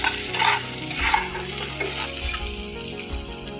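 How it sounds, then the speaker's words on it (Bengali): Cut potatoes frying separately in oil with salt and turmeric, crackling and sizzling steadily with occasional stirring scrapes, close and moderately loud, no voices. "আলু যে কেটে রেখেছিলাম, আলুটাকে আলাদা ভেজে নিচ্ছি, নুন আর হলুদ"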